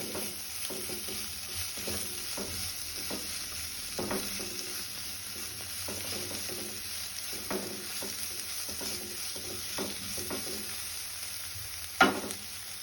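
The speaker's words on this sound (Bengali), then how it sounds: "ভালো করে একটু নাড়াড়ি করতে হবে" Kabuli chana masala with turmeric fries in a pan under a continuous sizzle while a spoon stirs and scrapes in a regular rhythm. A sharper knock on the pan comes near the end.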